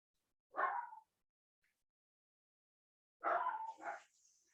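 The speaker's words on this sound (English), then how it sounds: "my apologies about my dogs barking in the background" Dogs barking indoors at a distance, one short bark burst and then a double bark a couple of seconds later, with quiet in between and no talk.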